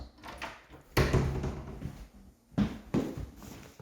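A door swinging shut on a home setup fitted with a smart contact sensor, giving a couple of dull, fairly close thuds and knocks with some rattle between them, and no voices.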